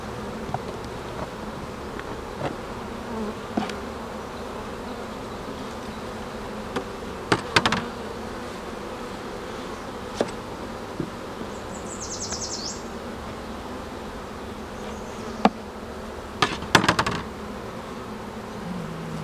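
Honeybees hum steadily inside a hive, with a dense buzzing drone throughout and a few light knocks and taps, with no voices.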